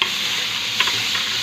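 Tomatoes and onion sautéing in a pan with garlic, a brief loud steady sizzle with one quick stirring scrape midway, no talk.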